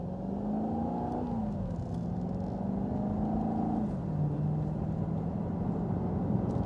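A 2012 Maserati GT Convertible accelerates up to speed, its engine note rising and shifting pitch as it climbs through the gears, heard steadily from inside the car.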